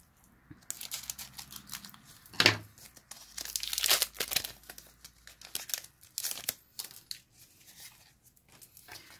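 Crinkly plastic wrapper on a Pokémon Elite Trainer Box card pack rustles and tears open up close, with a sharp rip early and bursts of crumpling throughout, no talking.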